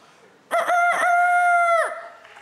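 A man imitates a rooster crowing on a talent show stage, a loud, near, sustained cock-a-doodle-doo with two short choppy bursts leading into one long held call that drops off at the end.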